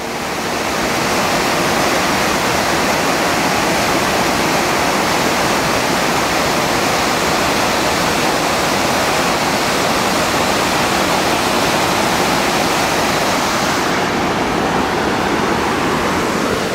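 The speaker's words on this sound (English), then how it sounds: "was inspired to come up and look at this waterfall" Steady, loud rush of the waterfall on Linton Creek where it drains toward Linton Lake in the Three Sisters area, a dense continuous roar filling the whole stretch with no voices.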